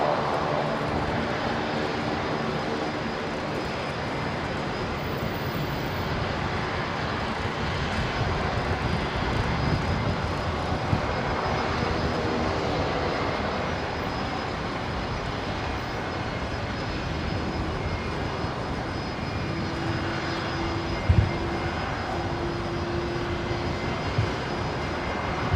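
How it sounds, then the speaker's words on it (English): Jetstar Airbus A320 flight 818 from Sydney rolling out after landing at Brisbane Airport, a steady, moderately distant jet engine rumble with a faint tonal whine and one brief knock. "there's Jetstar 818 in from Sydney"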